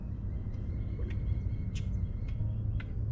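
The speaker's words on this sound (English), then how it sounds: "You hear the bird?" A bird calls near a calm Florida waterway, with several short, sharp chirps spaced across the clip over a steady low outdoor rumble and no talking.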